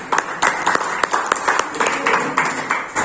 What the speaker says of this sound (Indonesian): Ya, aplaus untuk kita semua.